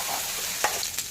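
Spice paste for a paneer gravy sizzles in hot oil in a pan, a brief close crackle with a couple of sharper spits near the end.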